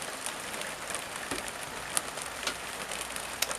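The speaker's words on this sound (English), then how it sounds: "Just open this door here. It's lovely. Look at that. Beautiful rain." Rain falls steadily outside an open veranda door, a soft continuous hiss with scattered drips and patters, fairly close and without voices.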